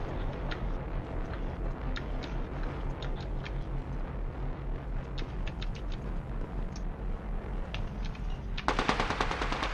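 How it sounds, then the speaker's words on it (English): Automatic gunfire in a battle royale video game, in fast continuous rhythmic bursts that run throughout, louder and sharper near the end. "Care pack getting shot at."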